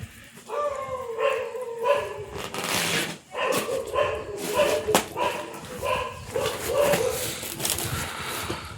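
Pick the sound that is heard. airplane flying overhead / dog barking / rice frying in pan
dog barking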